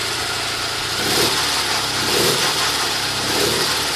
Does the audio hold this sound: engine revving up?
yes